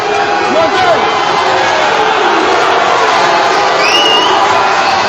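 A boxing crowd cheers and roars steadily during a heavyweight fight, a dense continuous wall of voices with scattered shouts and whistles rising above it, loud and close throughout.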